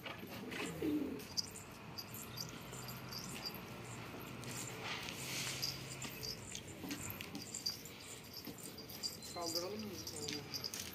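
Pigeons cooing in a bird enclosure, soft low coos and faint chirps under quiet background noise and occasional distant voices, intermittent and fairly faint.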